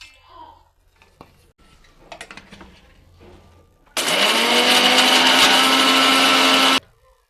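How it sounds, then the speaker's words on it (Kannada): A mixer grinder powders roasted cumin and coriander seeds for a tambuli, starting with a loud, steady whirring roar that runs about three seconds and then cuts off. Quiet clinks and handling sounds come before it. "ಅದನ್ನು ಈಗ ಮಿಕ್ಸಿ ಜಾರಿ ಹಾಕ್ಕೊಳ್ತಾ ಇದ್ದೀನಿ."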